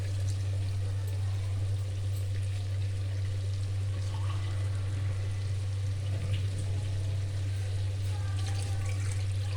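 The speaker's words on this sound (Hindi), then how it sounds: "अब हम इसमें 2 कप पानी ऐड करेंगे।" Two cups of water pour into a chicken karahi in a kitchen, a soft, steady stream of liquid running for several seconds over a strong low electrical hum.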